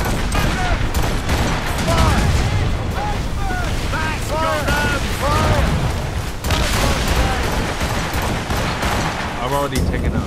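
Ship cannons fire in a naval battle in Assassin's Creed Rogue, a loud continuous barrage of booms with crew voices shouting over it throughout.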